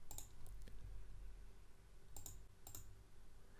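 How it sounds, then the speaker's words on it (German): Sharp mouse clicks in a Word dialog, a pair near the start and another pair near the end, quiet and close over a low steady room hum. "Klicke auf Übernehmen"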